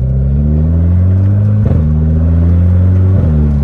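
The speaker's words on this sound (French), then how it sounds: "je vais monter jusqu'à la 5e vitesse" A Renault Clio 4 RS accelerates hard on a closed road in manual mode, its loud engine drone climbing steadily, with two brief dips as it shifts up through the gears.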